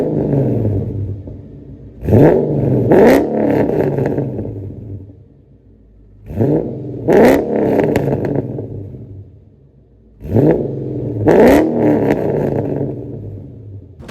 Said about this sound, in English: long tube headers going straight to the resonator to a muffler delete, and that's about it for the exhaust